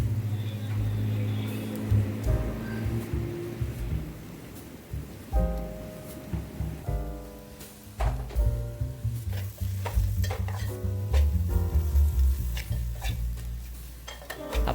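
Onion with green chili chutney and spices being sautéed in a pan for a Marathi egg recipe: continuous frying sizzle with repeated scraping and stirring strokes of a spoon against the pan, fairly close and loud.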